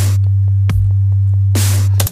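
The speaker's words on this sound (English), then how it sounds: "So you can just hear that nice pure sine wave." Pure sine-wave bass synth tone from Ableton Live, a steady, smooth low hum held throughout, with a few brief clicks and bursts of noise over it and no talking.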